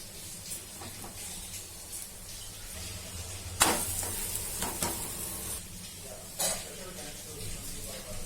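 Aloo paratha cooks on a pan with a steady, soft sizzle throughout, broken by a few sharper scrapes and clatters from the pan.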